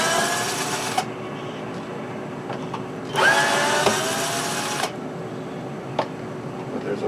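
A power screwdriver whirs in two bursts of about two seconds each, backing screws out of a Bose Acoustimass woofer cabinet, with small clicks and handling noises between them.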